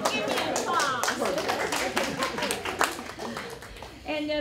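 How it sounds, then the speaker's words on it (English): Audience clapping for a guest speaker at a university human rights lecture, scattered claps mixed with voices talking over them throughout. "Give me applause."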